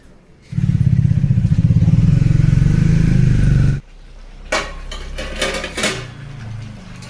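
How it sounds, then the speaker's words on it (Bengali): Pots and metal utensils clatter and knock while chicken biryani cooks, following a loud, steady droning rumble that cuts off abruptly before the scattered clanks. "মা জামাইয়ের জন্য বিরিয়ানি রান্না করছি চিকেন বিরিয়ানি হবে চিকেন রান্না হচ্ছে"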